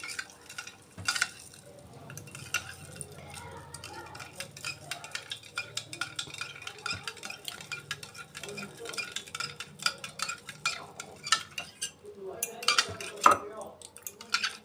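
A spoon stirs a strong cleaning substance in a container to dissolve it, giving soft continuous scraping and clinking against the sides, with occasional louder knocks, faint and close.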